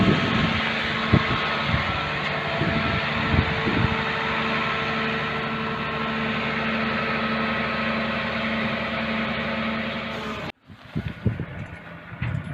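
A car transporter truck arrives to collect cars at a home, its engine rumbling and idling steadily near the microphone with wind noise, then cutting off abruptly near the end, followed by faint scuffling.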